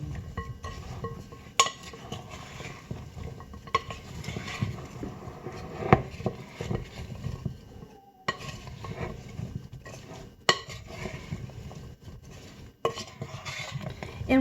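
Seasoned potatoes tossed in a bowl, with repeated scraping, stirring and occasional clinks of a utensil against the bowl over several seconds, fairly close and moderate in level.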